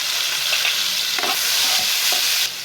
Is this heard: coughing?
no